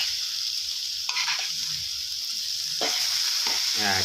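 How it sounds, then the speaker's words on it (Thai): A constant loud sizzle fills a pan as chicken and basil stir-fry ingredients are tossed, with a few spatula scrapes and clanks against the metal. "แล้วก็ผัด ให้ส่วนผสมต่างๆนะครับ เข้ากันดีนะครับ"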